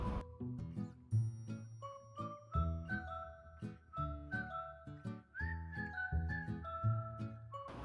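A pressure cooker cooking arbi (taro root) gives a high, wavering whistle amid clinking and tinkling, steady and continuous, venting in a kitchen.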